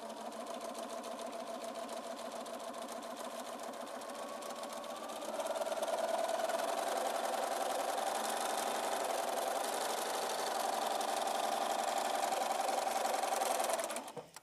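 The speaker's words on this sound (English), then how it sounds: "We're going to sew all the way down." A sewing machine stitches a quilt block with a steady, close mechanical whir that stays continuous throughout and grows louder and faster partway through before stopping at the end, with no voices.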